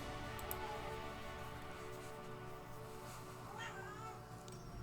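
A pet cat meowing indoors, a short meow rising briefly over a steady hum of background noise, faint and close.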